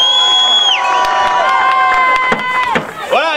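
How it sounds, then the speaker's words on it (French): A crowd cheers race winners on the podium at the VW Fun Cup 8 hours of Mettet, with whoops and shouts over tonal music, loud and close. "tonnerre d'applaudissements pour les gagnants."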